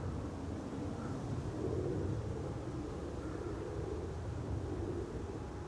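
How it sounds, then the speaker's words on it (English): KLM Boeing 787-9 airliner departing Amsterdam Schiphol, a steady broadband jet roar that holds level for the whole stretch, with some wind rumble and no voices. "KLM Flight 789 is also a Boeing 789."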